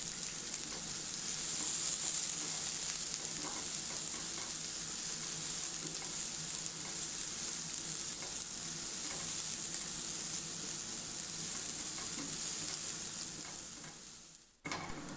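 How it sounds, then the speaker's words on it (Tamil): Onions sautéing in oil with mustard seeds, a dense continuous sizzle with faint stirring scrapes that runs for a long stretch and cuts off abruptly at the end, without speech. "கடுகு பொரிஞ்சதும் வெங்காயம் ஆட் பண்ணுங்கள்."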